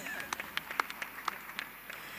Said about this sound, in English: vous applaudissez un tout petit peu